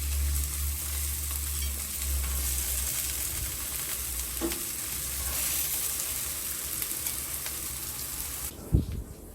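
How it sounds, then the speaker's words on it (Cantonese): Shrimp cakes pan-fry in hot oil with a steady, close hiss and crackle that runs unbroken for several seconds, then ends with a brief knock near the end. No voices are heard. "煎到佢兩面金黃就 OK 㗎啦"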